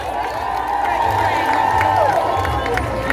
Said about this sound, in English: Ladies and gentlemen, put your hands together for his worship, the mayor, Councillor Williams.